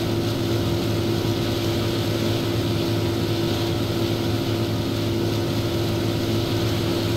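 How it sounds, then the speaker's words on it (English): A boat engine roars loud and steady on a river, a constant droning hum with no pauses or voices throughout. "This boat's making so much noise I can barely make out what you're saying."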